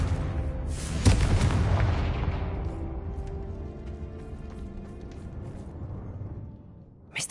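A Confringo fire spell from the video game Hogwarts Legacy bursts in a single heavy boom about a second in, then rolls off into a long, fading rumble with a faint ringing tail.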